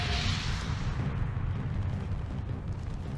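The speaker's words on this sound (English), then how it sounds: "That's a good explosion." A Mass Effect 3 video game explosion bursts loud at the start, then a heavy rumbling roar decays gradually over a few seconds, with no voices.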